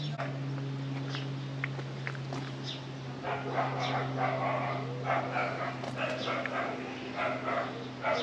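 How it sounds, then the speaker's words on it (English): Dogs bark and yip while playing outdoors on a coastal walk at Morecambe Bay, short scattered barks at middle distance over a steady low hum, with faint voices in the background. "Those dogs are having a bit of fun."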